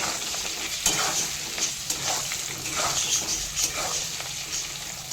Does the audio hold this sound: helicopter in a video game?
no